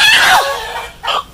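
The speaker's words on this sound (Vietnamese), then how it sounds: "mình đã bắt được con gà này cả nhà" A fighting rooster about 2 kg clucks in two or three short, close, loud harsh calls, with a brief quiet gap between them and no talking.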